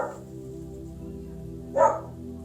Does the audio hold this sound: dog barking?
yes